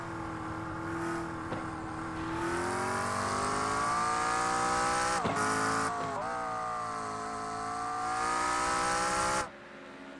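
Ferrari GT3 and McLaren race cars at Spa in a sim racing esports event, with loud sustained engine drone rising and falling through gear shifts that ends abruptly.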